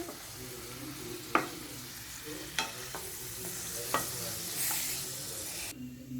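Mushrooms and paneer frying in a pan, a continuous close sizzle broken by several sharp scrapes and clicks of a utensil stirring against the pan.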